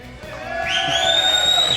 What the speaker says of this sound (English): What a crowd, what a crowd.